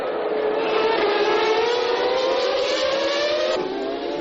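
A field of 1999 Formula 1 cars, McLaren-Mercedes among them, roars away from the start of the Melbourne race, a dense, sustained engine howl with rising pitch that holds steady and loud throughout.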